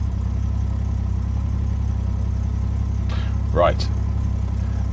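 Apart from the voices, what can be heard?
classic car engine idling after start-up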